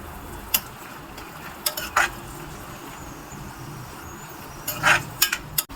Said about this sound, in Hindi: अब इसको हम थोड़ा सा ब्राउन हो जाएगा तब तक इसको भूनेंगे